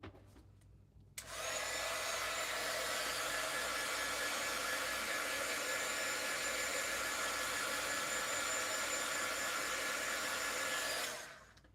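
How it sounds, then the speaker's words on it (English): A heat tool drying freshly stamped ink on craft paper blows a loud, steady whooshing roar that switches on after a second of quiet and holds constant for about ten seconds before cutting off. "I'm just going to really quickly hit it with some heat so it will dry that for me."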